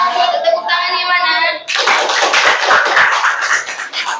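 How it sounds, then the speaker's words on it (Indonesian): A group at a school presentation claps hands, a burst of loud mixed clapping that starts after a short spoken bit and continues to the end. "Tepuk tangannya mana?"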